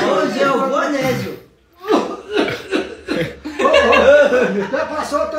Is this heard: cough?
yes